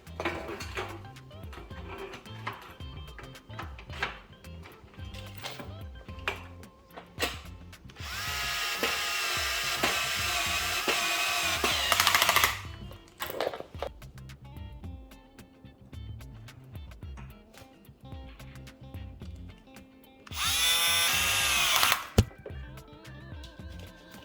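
A power drill driving screws into a DIY window screen frame at a door threshold, with short bursts of whirring and a couple of longer sustained runs, close and fairly loud, amid handling knocks.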